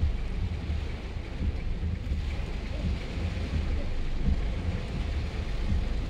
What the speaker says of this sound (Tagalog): Sobrang lakas ng ulan, no?